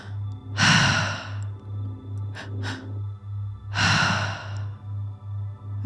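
Slow, deep breaths during a breathwork exercise for processing grief: two long audible exhalations roughly three seconds apart, with a few short breaths between them, all over a soft pulsing background tone.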